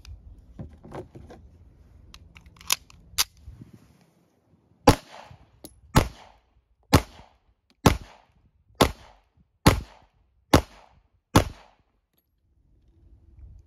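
Nine sharp 9mm pistol shots from a Sig Sauer P210 American with a 4.75-inch barrel at a range, fired in a slow, even rhythm about one per second, loud and close, after some quieter clicks and handling noises.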